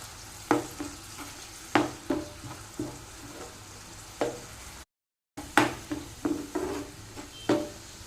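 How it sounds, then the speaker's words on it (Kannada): Fish masala with vinegar bubbling in a pan while a spoon stirs it: a steady low sizzle broken by sharp scraping knocks of the spoon against the pan, close and irregular, with a brief gap midway. "ನೋಡಿ ವಿನೆಗರ್ ಹಾಕಿ ಒಂದು ಕುದಿ ಬಂತು"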